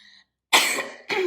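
Two sharp coughs from a person, the first longer and harsher, the second a brief follow-up after a short pause, close and loud in an otherwise quiet room.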